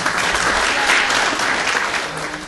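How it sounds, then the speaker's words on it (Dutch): Brief, steady audience applause at a tenants' day event, a dense wash of clapping from a room full of people, lasting a couple of seconds. "applaus"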